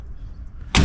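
Door of a converted AVIA truck body shuts with a single short, sharp thud near the end, after a quiet low hum.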